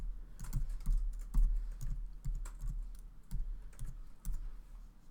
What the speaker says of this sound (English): I'm going to just type it into the browser